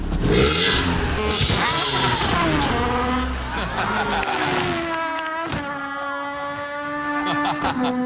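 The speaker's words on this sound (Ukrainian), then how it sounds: "зацініть вихлоп" Exhaust of a used Daewoo Lanos car revving up and then settling, a loud throaty rise in pitch followed by a falling idle, with people talking faintly nearby.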